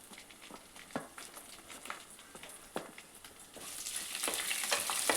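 Okra and green chillies fry in AMC cookware, a soft crackling sizzle with scattered spatula taps that swells into a louder, denser hiss toward the end, close and without talk.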